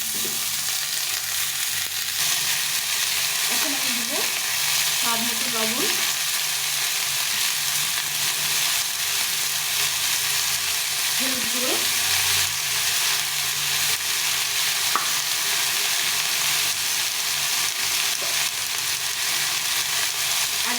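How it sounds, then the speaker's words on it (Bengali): Tomato frying in a pan with cauliflower curry, a steady close sizzle with occasional stirring scrapes throughout, no talking. "আমি এই টমেটোটা দিয়ে দেবো দিয়ে এটাকে একটু ভেজে নেব নাড়াচাড়া করে নেবো"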